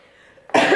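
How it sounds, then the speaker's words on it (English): A single short, abrupt throat clearing close to the microphone, breaking a near-quiet pause before reading aloud. "Clear my throat"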